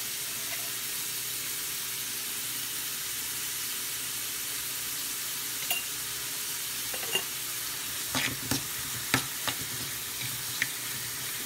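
Onions sizzle with green chilies and salt in a pan for spinach dal. A steady frying hiss runs throughout, with a cluster of sharp stirring clinks and scrapes toward the end.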